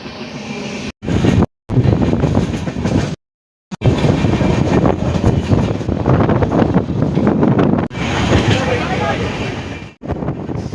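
Inside a moving train on the way to Puri, standing near the open door, a loud rushing mix of wind buffeting and rolling rail noise fills the clip, with several abrupt cuts to silence.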